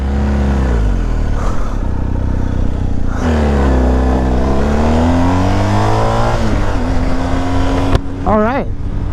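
A large motorcycle engine runs close by with a steady drone that swells and dips in pitch, ending in a few quick, sharp revs near the end.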